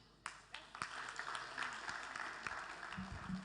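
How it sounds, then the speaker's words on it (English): Scattered, fairly faint applause from a small group at a coding contest livestream, with individual claps standing out and a brief voice near the end. "A round of applause for Joseph."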